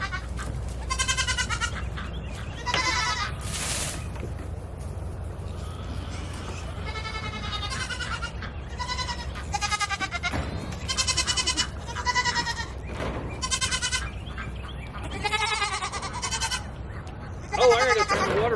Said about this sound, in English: Baby goats, look how big they are.